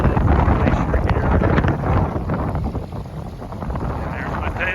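Wind gusts across a campsite in Gates of the Arctic beside a small glacier-fed creek, a steady low rumbling buffet on the microphone that stays loud throughout, with no voices.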